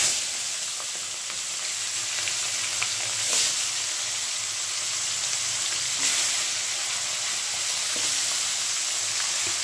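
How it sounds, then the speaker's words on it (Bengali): Fish heads frying one by one in hot oil over a low flame, a steady close sizzle that holds at an even level throughout with a few soft pops. "মাছের মাথাগুলো সব এক এক করে ভেজে নেব।"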